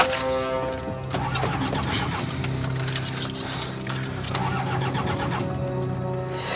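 Car engine cranking repeatedly without catching, a continuous, close, rhythmic churning of the starter that goes on without a break.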